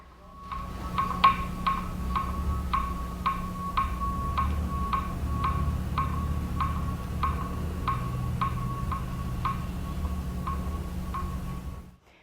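Song of a hybrid Xenopus frog, a borealis-laevis cross, as a steady train of sharp clicks at an even interclick interval, about twenty in twelve seconds, over a continuous low hum and background noise.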